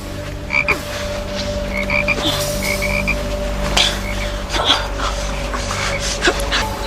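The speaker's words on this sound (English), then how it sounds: "But I go there for the frogs." Frogs croaking repeatedly in short, irregular calls over a steady hum, fairly close and clear, from an X-Files episode scene.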